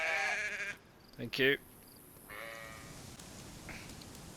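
A single sheep bleats in the survival video game DayZ, a short wavering cry heard close and clear over quiet outdoor game ambience, with a brief bit of talk elsewhere in the moment.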